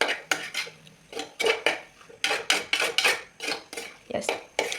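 A metal spoon stirs squid roast with pepper in a pan, making close, rhythmic scraping and clanking strokes in quick succession, with no talk.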